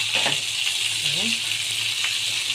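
Tilapia fish frying in a pan with a seasoning mix, a steady loud sizzle of hot oil throughout, with a voice speaking briefly over it.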